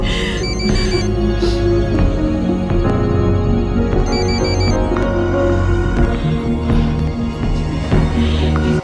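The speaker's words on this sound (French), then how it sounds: "Mike décroche, notre fille est malade" A telephone ringtone plays a loud, continuous electronic melody with repeating tones for about nine seconds, with no voices.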